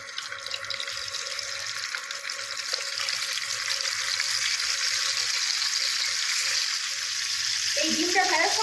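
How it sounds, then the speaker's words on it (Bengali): Eggs fry in oil left from browning sliced onions for an egg korma, a steady close sizzle and hiss running throughout with a brief clatter near the end. "ওই তেলের মধ্যেই আমি এখন ডিমটা ভেজে নেব"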